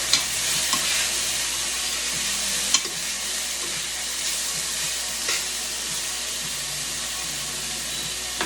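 Vegetables sizzle steadily in a hot stir-fry pan alongside noodles, a continuous broadband frying hiss with occasional faint clicks of stirring, no voices.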